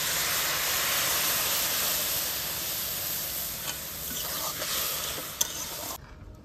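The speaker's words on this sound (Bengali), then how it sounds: "সেই বাটি মেপে 3 বাটি দুধ দিয়ে দেব" A pan of fried vermicelli gives off a continuous bright hiss as milk is poured in, steady for several seconds with a couple of clinks and knocks before it quiets abruptly.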